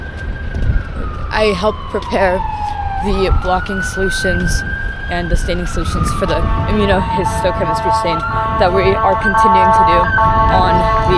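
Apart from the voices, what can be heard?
emergency vehicle sirens in the city streets of Cleveland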